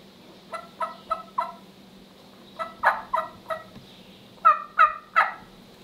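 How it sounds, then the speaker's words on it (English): A wild turkey gobbles in three separate bouts of rapid, rattling calls, clear and fairly close against a steady low hum. "if I can get a turkey gobbling at me"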